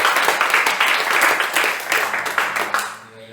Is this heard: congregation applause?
yes